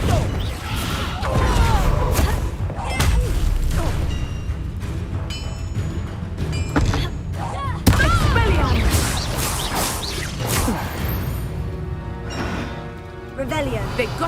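Confringo blasting spells explode in the video game Hogwarts Legacy, with heavy bangs and whooshes amid game sound while a voice shouts spell names over the action.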